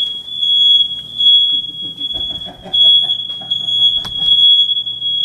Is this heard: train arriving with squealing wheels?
no